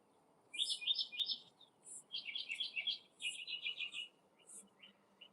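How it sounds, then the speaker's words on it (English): Mockingbird singing just before sunrise in a garden, bursts of quick, high chirping phrases repeated in several runs, moderately near and clear over a faint steady background hum. "About to be sunrise. It's a mockingbirds."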